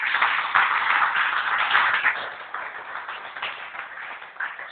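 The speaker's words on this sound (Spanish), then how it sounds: "denle un aplauso al que vive y reina" Church congregation clapping together, a steady patter of many hands at moderate volume that eases slightly toward the end, heard through a thin, band-limited recording.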